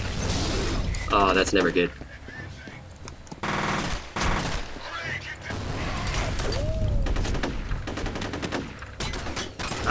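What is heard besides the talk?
gunfire in video game F.E.A.R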